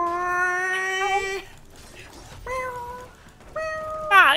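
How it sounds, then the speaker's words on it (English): A dying-cat sound effect from the Heroes of the Storm video game: three drawn-out, wailing meow-like cries, the first longest, with brief pauses between them. "Sound of a dying cat."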